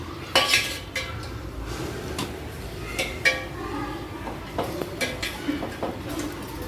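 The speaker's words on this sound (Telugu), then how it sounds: "రుచికి సరిపోయేంత సాల్ట్ వేసుకొని ఒకసారి మొత్తం కలుపుకోవాలి." A spoon stirs tamarind and salt into amaranth leaf curry in a metal pot, with clinks and scrapes against the vessel at an irregular pace, close and moderately loud.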